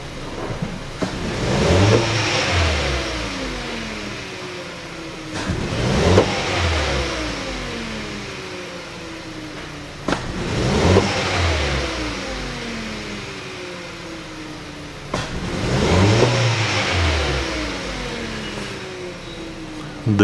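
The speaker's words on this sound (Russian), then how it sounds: "обороты плавают, работает неустойчиво, с провалами, с пропусками" A 2012 Hyundai Solaris engine with a misfire revs roughly and unevenly, surging up and sagging back in four repeated cycles, its idle stumbling and hunting between bursts.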